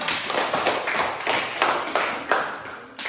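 Students in a classroom clap their hands in a loose, uneven rhythm, a handful of sharp, close claps and taps arriving in bursts over a few seconds.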